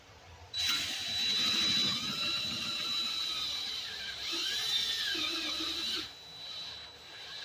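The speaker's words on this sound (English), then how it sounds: "You see it's going through with the drill" A drill whines steadily with a high, squealing tone, grinding through metal while boring out a broken bolt for several seconds before easing off.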